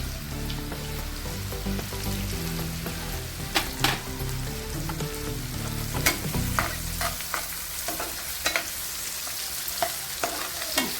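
Onion frying in a pan with salt and turmeric, a continuous close sizzle under repeated spatula scrapes and stirring clicks throughout, with no voices.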